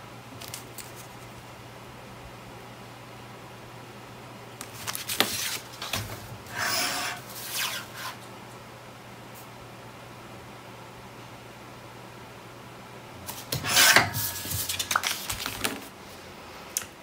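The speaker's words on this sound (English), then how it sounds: "the last thing is we're going to trim this down to fit." Paper being trimmed to fit a Graphic 45 Charmed scrapbook page, heard as two close bursts of rasping, scraping cuts separated by quiet, with no talking.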